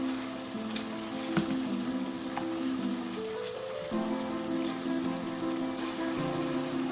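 Potatoes and masala frying in a karahi, a steady, continuous sizzle like light rain on a surface, moderately close, with a faint hum running underneath and no talking.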